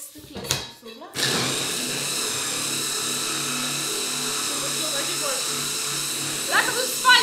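A blender blending raspberries whirs steadily for several seconds at close range, its motor hum continuous after a brief start, with faint voices in the background.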